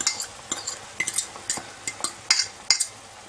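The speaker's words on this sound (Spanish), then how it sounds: "Ahora todo esto lo mezcláis bien mezcladito. Se mezcle con la cebolla." A spoon stirs a frying croquette mixture with onion in a pan, giving rhythmic close scrapes and clinks about twice a second over a faint sizzle.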